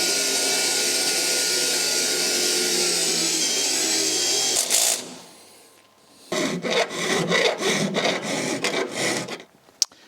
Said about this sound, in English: So let me mark this, and then we'll drill the hole right there.